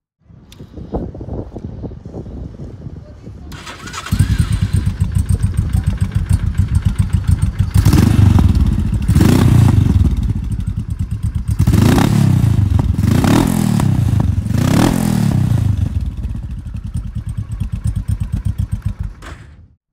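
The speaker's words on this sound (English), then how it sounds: "let's hear its exhaust note" An 822cc twin-cylinder Royal Enfield Himalayan exhaust starts, idles with a throbbing beat, then is blipped several times in loud revving bursts before settling and cutting off.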